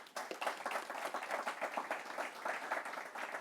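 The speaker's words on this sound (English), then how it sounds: "How about a round of applause for all of our panelists?" Conference audience applauds the panelists after a European transport panel on maglev trains, a steady patter of clapping from a moderately distant crowd lasting several seconds with no voices over it.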